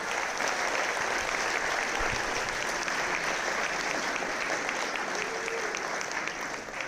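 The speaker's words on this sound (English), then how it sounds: "Give yourselves a big round of applause." A school community audience applauding at the close of a Christian school's junior stage production of Beauty and the Beast: full, continuous clapping from a large crowd, steady throughout with no talk.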